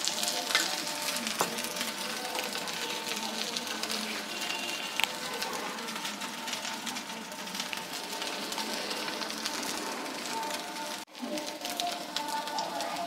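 Maida dosa batter with egg sizzling and frying on a hot pan, a steady bright crackling hiss that runs continuously at close range with only a brief dip near the end.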